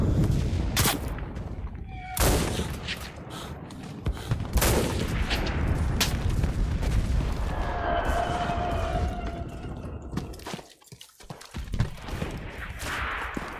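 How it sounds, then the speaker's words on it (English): Gunfire in a video game battle, bursts of loud cracking shots and rattling volleys mixed with a wailing tone, dense and close with brief lulls between salvos. "What are these people shooting at, man? I see the shots flying."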